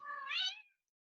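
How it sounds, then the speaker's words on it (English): A single drawn-out cat meow that rises and then fades, fairly faint and heard alone indoors, followed by silence. "Don't worry about my cat meowing."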